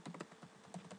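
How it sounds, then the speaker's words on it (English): Fingers type on a computer keyboard in a quick, uneven patter of crisp key clicks, close and fairly quiet, with no talking. "I am going to begin typing my abstract"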